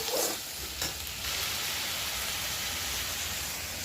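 Steady, dense sizzling of tomatoes frying in hot oil, loud and close, continuous throughout with no talking.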